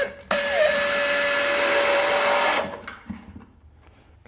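A screw is driven into the side of a plastic bucket with a power driver, a steady whirring buzz lasting about two seconds that then stops, followed by faint handling clicks.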